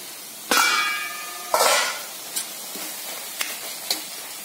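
Curry being stirred in a pan, with a scrape of the spoon and a sizzle burst near the start, another stir soon after, then a few scattered light clinks and taps against the pan.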